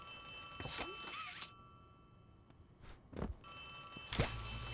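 A telephone in Poppy Playtime Chapter 3 gives short, bright rings separated by quiet gaps, fairly clear in an otherwise hushed space.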